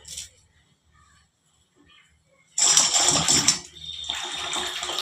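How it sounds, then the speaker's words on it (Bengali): Chopped gandal (Gada) leaves being rinsed in water in a home kitchen: quiet handling, then a loud burst of splashing and sloshing followed by steadier running, rustling water. "একটু ধুয়ে নিলাম না হলে প্রচুর নোংরা থাকে"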